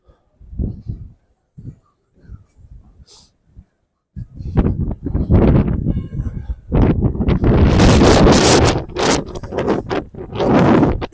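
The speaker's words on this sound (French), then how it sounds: "Une rafale de vent" Wind gusts through the narrow streets of Saint-Tropez near the harbour in January, first quiet and then hitting hard as loud, sustained buffeting and rushing noise for the final seven seconds.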